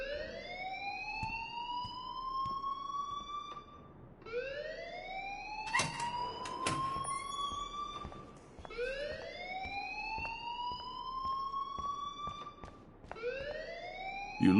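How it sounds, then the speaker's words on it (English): A school alarm in the game Life is Strange wails in repeating rising sweeps, about four cycles at a steady rhythm, moderately loud and alone apart from a few clanking knocks. "please turn off that alarm since that's your job"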